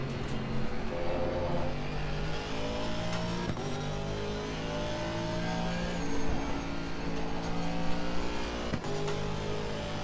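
A race car engine at full throttle in Assetto Corsa Competizione drones loud and steady, its pitch rising through the gears with brief dips at the shifts.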